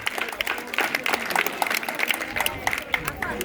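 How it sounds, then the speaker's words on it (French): An audience at a children's church dance in Adaï applauds the little ones dressed in white, a fairly soft spatter of hand claps with uneven bursts, moderately distant, lasting a few seconds. "je voudrais qu'avant de commencer, vous applaudissiez nos tout petits"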